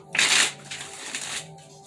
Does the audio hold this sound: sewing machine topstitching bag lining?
no